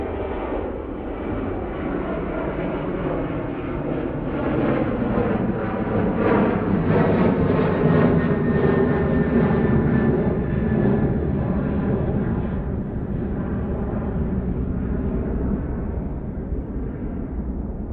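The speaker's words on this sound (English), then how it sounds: "there goes our first departure of the day. Right, going off to Cork. Short flight. That's 737-800." A Boeing 737-800 departs Manchester Airport bound for Cork, its engines producing a steady, loud rumbling roar that builds slightly midway and then eases, heard nearby without voices.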